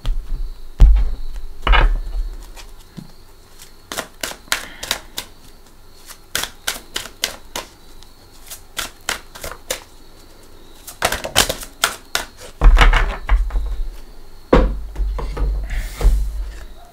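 Tarot cards are shuffled by hand in bursts of quick, crisp riffling and slapping, close and clear in a quiet room with pauses between the runs.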